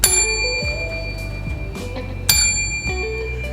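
Two bright bicycle-bell dings, one at the start and another partway through, each ringing out with a long metallic decay, standing alone and clear as a notification chime.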